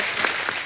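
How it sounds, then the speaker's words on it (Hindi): Brief burst of studio audience applause on a television comedy show, dense even clapping throughout a fraction of a second. "जोरदार ताली प्रोमो के लिए।"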